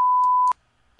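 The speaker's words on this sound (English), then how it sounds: "I have just like a really long beep sound" One steady electronic tone, about half a second long, cuts off abruptly and is followed by near silence.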